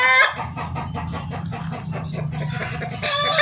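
A sick chicken being treated for coryza clucks repeatedly in a rapid, steady run of short calls. The sound is close and continuous, with no talk.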